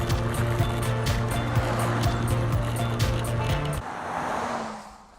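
Vehicles pass on a busy country road beside someone skating, with a steady rumbling roar close by that drops away near the end, leaving a faint hiss.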